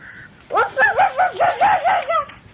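A voice imitates a dog, giving about seven quick, bouncy "woof" barks in a steady rhythm, close and fairly loud.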